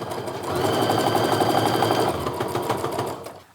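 A sewing machine stitches quilt pieces together in one steady mechanical run lasting a few seconds, loud and close, its whir slowing slightly near the end, with no talking.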